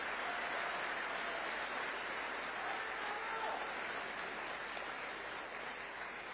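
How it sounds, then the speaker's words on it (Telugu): Sustained applause from an audience at Chief Minister Chandrababu Naidu's speech in Singapore: dense, even clapping that holds steady throughout, with no voice over it. "గట్టిగా చప్పట్లు కొట్టి మీరు కూడా సహకరించాలి"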